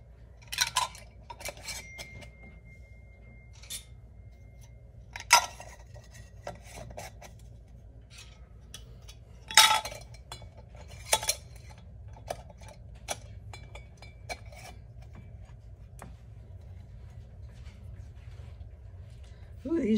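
Metal lids being screwed finger tight onto hot glass canning jars of turkey broth, with sporadic scraping twists and sharp clinks of metal on glass, close and separated by quiet gaps.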